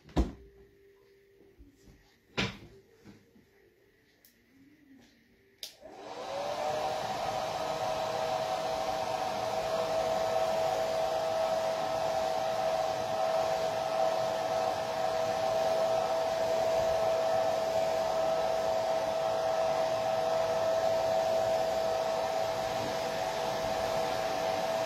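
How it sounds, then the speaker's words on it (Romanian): A hair dryer switches on after a few clicks and knocks, then runs steadily with a loud, even whooshing roar and a constant motor whine, drying varnish on a decoupage medallion for a lavender basket, close by with no talking. "o să-l usuc un pic cu fionul"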